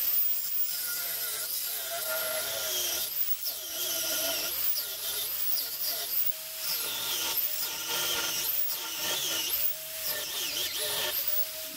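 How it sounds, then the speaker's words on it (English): Grinding or filing away at a copper knife blank to thin it down, a continuous loud abrasive rasp with repeated short pauses and restarts. "Here I'm thinning down the knife."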